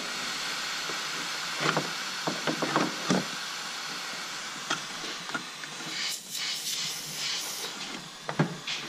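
A constant airy hiss from a boost pressure leak at the throttle valve of a diesel truck, close by, with scattered knocks and handling clatter over it.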